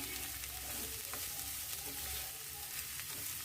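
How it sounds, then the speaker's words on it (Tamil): Bitter gourd sautés in a pan with a steady, dense sizzle and frying crackle, punctuated by a few soft stirring scrapes, close and continuous with no talking. "இந்த க்ரீன் கலரே தெரியாத அளவு நல்லா வதக்கணும் அந்த அளவுக்கு வதக்கிக்கோங்க"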